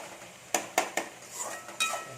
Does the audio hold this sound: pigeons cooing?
no